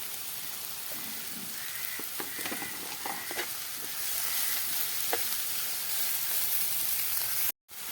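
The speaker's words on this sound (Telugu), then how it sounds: "మధ్య మధ్యలో కలుపుకుంటూ ఇవన్నీ మంచిగా మగ్గేంత వరకు మగ్గించుకోవాలి." Onion, green chilli and tomato cook in a pan with a steady sizzling hiss while a spoon stirs, giving scattered clinks and scrapes in the first half before the frying continues alone and ends abruptly.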